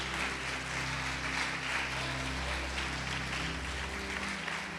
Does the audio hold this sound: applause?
yes